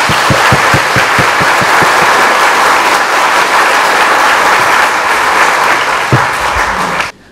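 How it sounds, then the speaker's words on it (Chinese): Soldiers at an army training centre applauding a visiting mayor: loud, sustained clapping from a large crowd that continues for about seven seconds and then cuts off. "我们再次热烈掌声，感谢市长百忙之中莅临而来"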